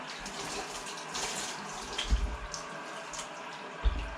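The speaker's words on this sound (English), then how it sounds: "So now I'm just gonna rinse all the soap off of it." Running tap water rinsing soap off a mousepad, a steady close splashing rush with a couple of soft thuds of the pad being handled.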